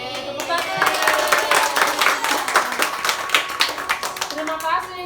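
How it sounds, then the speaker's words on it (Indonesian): A congregation claps together right after a prayer at a church gathering, a dense burst of many hands that holds steady for several seconds, with voices or tones carrying faintly underneath. "Tepuk tangan."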